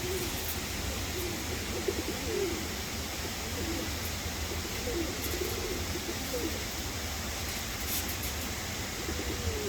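Soft, repeated cooing of pigeons rises and falls throughout, set against a steady broadband hiss, with a few faint chirps scattered over the background.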